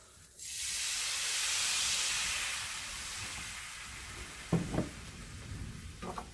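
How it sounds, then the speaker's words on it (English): Carbonated liquid poured into a hot pan with cooking meatballs for a sweet and sour sauce, a sudden loud hiss of frothing and sizzling that slowly fades, then a few light clinks near the end. "Now this is carbonated, so do be aware that it might froth up a little bit."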